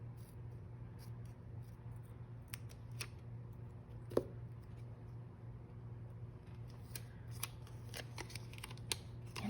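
Scissors snip through washi tape in a few faint, sharp clicks over a low steady hum in a quiet room.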